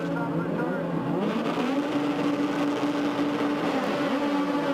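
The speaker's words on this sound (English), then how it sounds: "The revs come up." Star Mazda race cars at Mosport International Raceway in 2010 rev up together at the race start, a loud sustained engine drone with rising pitch sweeps that stays constant through the clip.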